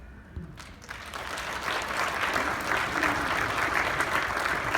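A crowd at a political campaign event in Brown County breaks into applause for local candidates; it swells after a few scattered claps and holds steady and loud to the end.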